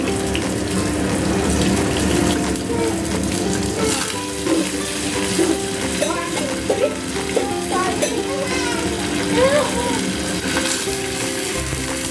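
Water poured into a hot tempering of mustard seeds, curry leaves, chilli and coriander for dhokla, a loud continuous sizzle and hiss with faint splashing and stirring, close and steady.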